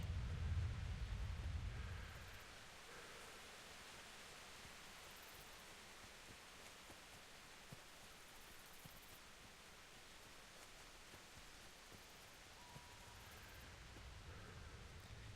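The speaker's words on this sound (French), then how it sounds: "S'il pouvait s'arrêter de pleuvoir, ça me ferait plaisir." Steady rain falls in the medieval role-playing game Kingdom Come: Deliverance, a soft continuous hiss that holds evenly throughout, with a louder low rumble at the start.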